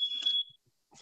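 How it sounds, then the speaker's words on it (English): A smoke alarm chirps once in a high, piercing tone for about half a second, followed by faint low thumps, then another short burst. "Please ignore my smoke alarm."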